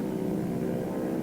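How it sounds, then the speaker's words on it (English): A propeller airplane in a radio drama approaches as a steady, loud engine drone that holds evenly throughout, with no voices over it. "Here comes the plane."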